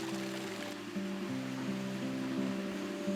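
Water flows in the Generalife gardens of the Alhambra in Granada, a continuous rushing wash heard alone, with faint steady tones running beneath it.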